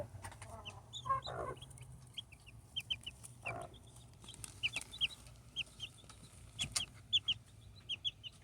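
Newly hatched chicks with their mother bird, a series of high, thin peeping chirps scattered throughout, with a couple of lower clucks early on, faint and near, no talk.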